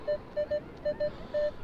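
A metal detector gives a string of short electronic beeps, about six pulses in quick, uneven succession, one held slightly longer, over faint background hiss.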